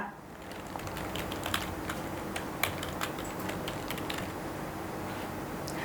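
Light, quick clicks of a computer keyboard tap out an irregular rhythm of keystrokes, fairly faint against a soft steady room hiss.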